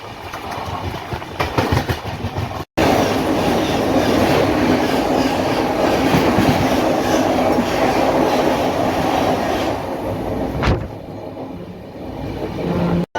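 The Sai Nagar Shirdi–Howrah Superfast Express rolls along the rails with a dense, continuous rattle and clatter of wagons, briefly dropping out once early on, then easing slightly quieter near the end, with no voices.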